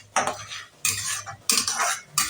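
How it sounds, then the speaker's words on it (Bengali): Garlic paste, ginger and tomato paste frying in a pan while a utensil stirs them, giving four bursts of scraping and clinking over a soft, low sizzle. "একটু ভাজা ভাজা করব।"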